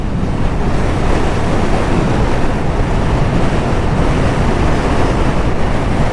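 Steady, loud wind buffeting the microphone, a continuous roaring rumble with no break and no voices.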